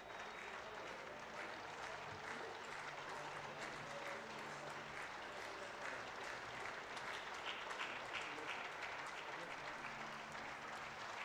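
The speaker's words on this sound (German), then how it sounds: "Koban ist draußen, der hat sich den Applaus aber auch redlich verdient." Sustained stadium applause fills the whole stretch as substituted player Koban leaves the pitch at the SSV Ulm 1846 versus SG Sonnenhof Großaspach cup football match, dense, even and continuous crowd clapping.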